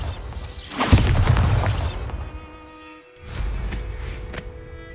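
Two loud booming blasts from the Bombarda explosion spell in Hogwarts Legacy, the first a heavy crash with crumbling debris, the second following about two seconds later after a brief lull.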